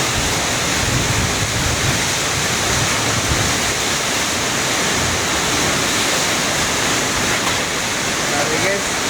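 Very heavy, typhoon-like rain pours down in Cagayan de Oro City as a loud, dense, unbroken roar. The downpour continuously drums close by, with no break.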